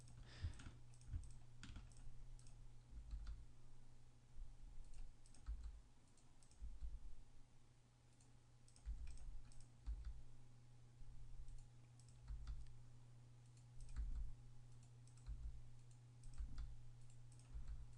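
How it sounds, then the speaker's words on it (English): Quiet, irregular clatter of fingers typing on a computer keyboard, with separate key clicks arriving in short bursts and pauses over a low steady hum. "Hit the wrong keyboard."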